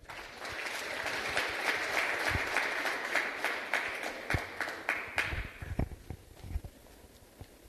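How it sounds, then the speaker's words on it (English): An audience at an evening school-governance excellence awards ceremony applauds a guest speaker, a full sustained round of clapping that thins into scattered individual claps near the end. "can we give him a round of applause"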